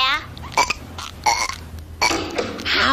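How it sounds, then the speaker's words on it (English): Loud, drawn-out burps from a cartoon family come in several bursts, with voices talking around them and a gruff raspy tone standing out clearly. "I'm still the burp champion of the world."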